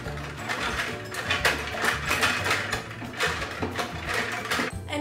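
A capped cup of iced coffee with creamer being shaken to mix, giving a rattling, clattering run of ice knocking inside the cup in uneven bursts throughout.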